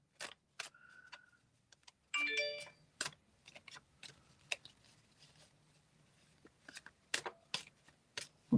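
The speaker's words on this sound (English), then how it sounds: "Just want to give these a good shuffle first." A deck of cards is shuffled at a table during a medium's reading, with a long run of sharp, irregular riffling snaps and flicks. A brief ringing tone sounds partway through.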